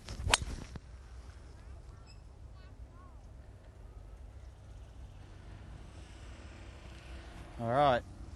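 A golf club strikes the ball on a tee shot at the 16th hole of Doral's Blue Monster course: one sharp, loud crack near the start, then quiet open-air ambience with a brief murmur near the end.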